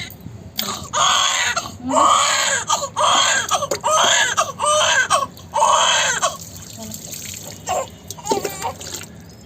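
A three-month-old baby boy cries from the cold during a bath, with repeated loud, close wails in rhythmic bursts and short breaths between them, over faint splashing water.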